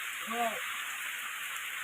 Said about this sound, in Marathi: हा कसला मुसळधार पाऊस मागणं आलाय बघ